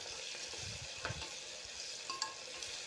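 Onion frying in a pan with ginger-garlic paste for masala rice, a continuous close sizzle with a few sharp stirring scrapes and clinks against the pan.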